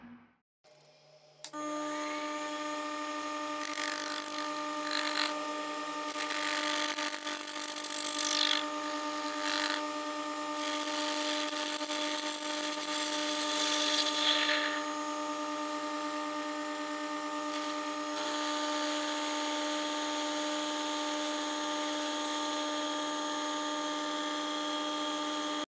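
A metal lathe parts off small clock pillar and washer pieces in a home shop, a steady whining machine tone joined by scraping cutting noise that swells and fades in bursts, with one shift in pitch late on.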